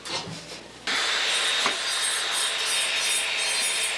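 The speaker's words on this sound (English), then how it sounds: "We need to do the trim with the burr now." After a brief faint rubbing, a dental burr starts up with a sudden high whine and grinds steadily against an acrylic occlusal splint, close and continuous, with slight changes in pitch as it trims.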